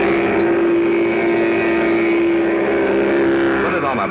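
A Mattel Varoom toy hot rod engine imitates a real motor, giving a steady, loud buzzing drone with a strong constant pitch. A voice talks briefly near the end.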